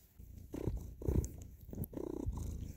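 A pet cat purrs close by in a steady rumbling rhythm, breaking into several bursts with short pauses between them and heard alone without talk.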